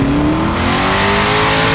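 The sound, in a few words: modded car engine revving in video game GTA 5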